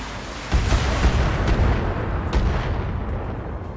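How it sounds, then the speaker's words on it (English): Turret gunfire strikes a mech in the BattleTech video game: a continuous rumbling barrage of heavy booming impacts, several sharper hits standing out over a dense low roar, with no talking. "we're taking shots from another turret"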